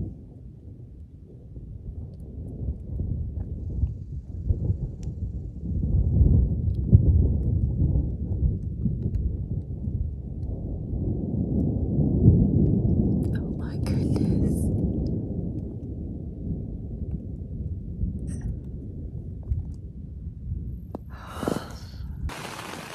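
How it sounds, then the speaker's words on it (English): Thunderstorm rolling in over a mountain trail on the Continental Divide: deep, continuous thunder rumbling and rain fill the whole stretch, swelling and easing without a break, with a few brief rustles near the end. "it's just a lot of thunder rumbling and a lot of rain"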